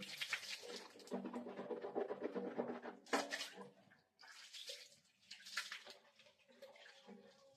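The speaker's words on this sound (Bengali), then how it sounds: "এই আমার হ্যান্ড ওয়াশ ভালোভাবে ধুয়ে নিই" Running tap water splashes steadily while hands and face are washed with hand wash in a home bathroom, continuous with brief pauses and surges, close and moderately loud, no talking.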